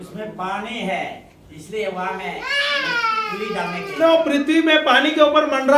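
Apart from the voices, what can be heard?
baby crying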